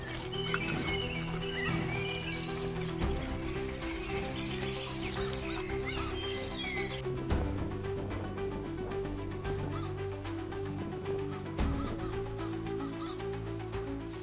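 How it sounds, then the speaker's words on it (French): A zebra herd crossing dry ground in the African wild: a dense, continuous rumble of many hooves with scattered clopping, overlaid by frequent whinnying and honking animal calls, steady and full throughout. "Le son des sabots des chevaux résonne sur le sol sec"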